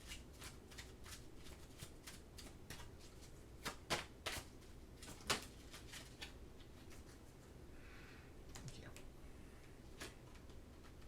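Oracle cards are shuffled by hand in a series of crisp, close riffling snaps and soft slides, some louder than others, set against a quiet background.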